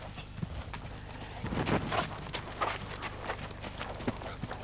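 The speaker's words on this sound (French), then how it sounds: "Ne change pas ton galop, hein. Laisse-le faire, le cheval." Horse cantering in a riding lesson arena, its rhythmic hoofbeats thudding steadily at close range, with an instructor's voice talking over the gait.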